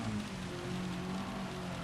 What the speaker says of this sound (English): We need to be really pushing on in this rain